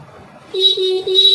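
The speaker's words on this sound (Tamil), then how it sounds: "இப்போ ஹார்ன் அடிக்கிறேன் பாருங்கள்" Two short electric horn beeps sound close by from a scooter after a wiring repair, a bright steady tone with a brief break between them, after a moment of quiet.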